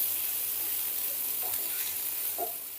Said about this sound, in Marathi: कांदा सुद्धा छान असा सॉफ्ट होईपर्यंत, कलर चेंज होईपर्यंत ना परतून घ्यायचा आहे तेलावर